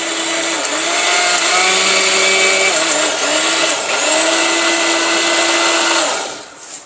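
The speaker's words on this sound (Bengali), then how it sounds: "তারপর কোনো সমস্যা নাই যেহেতু এটা জাপানিজ ব্লেন্ডার" A Japanese blender motor whirs loudly and steadily for about six seconds while grinding a paste, its pitch wavering slightly as the load shifts, then cuts off and the sound dies away at the end.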